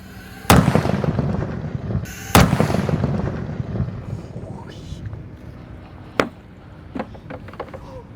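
Imported firecrackers go off inside a big barrel: two loud, sharp booms with ringing metallic decay, followed by a few smaller, more distant pops.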